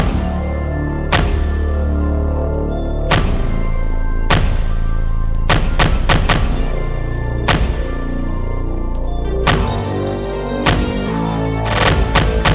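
Two layered kick drums together in a drill beat: heavy, punchy hits with a deep booming low end and sharp attack, repeating in a loose pattern over a sustained bass-heavy beat.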